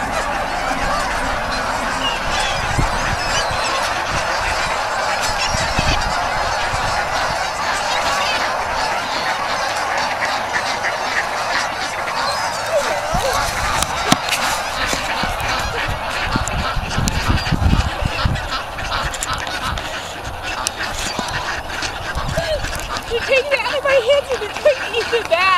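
A flock of geese honks continuously and loudly, a dense chorus of overlapping calls, with people talking now and then beneath the noise.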